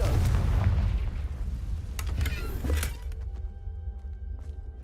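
A Confringo blasting spell detonates in the video game Hogwarts Legacy, a loud close booming explosion with crackling debris that rumbles for about three seconds before cutting off, leaving quiet ambient game sound.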